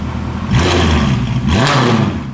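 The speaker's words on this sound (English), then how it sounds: "give it a couple revs, like three grand" A Mercedes W204 C63 AMG V8 with LT headers and a straight-piped exhaust revs up close, loud and raw, with two quick throttle blips that rise and fall over a rumbling idle.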